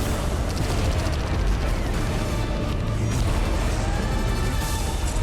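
Continuous dense rumbling blasts and crashes of spaceship explosions in the game EVE Online, loud and sustained with no pauses and no talking.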